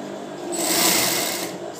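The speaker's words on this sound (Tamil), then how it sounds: "ஃபர்ஸ்ட் போட்ட தையல் மேலேயே தையல் போடுறேன்" A sewing machine runs one close, loud burst of stitching back over the first seam on a bra. The whirring swells in the middle and then eases off.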